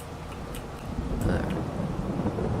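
Thunder rolls in Farming Simulator 22 on the Zielonka map, a low rumbling swell building midway through over a constant rain-like hiss, fairly loud and sustained to the end.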